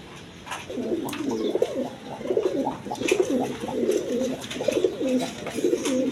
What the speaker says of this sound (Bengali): এটা গররা কবুতর।